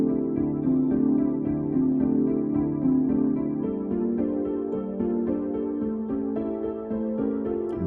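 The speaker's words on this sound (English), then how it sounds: "Now, altogether, both pianos sound like this." Two layered piano melodies run through lo-fi tape, reverb, chorus and delay effects, panned left to right, playing a continuous, distorted, bouncy phrase with shifting chords and no talking.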